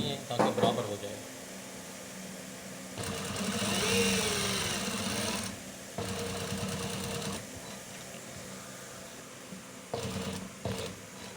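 A sewing machine stitches a men's kameez collar in bursts, a quiet steady mechanical whir that starts and stops several times, with a voice speaking at moments in the background.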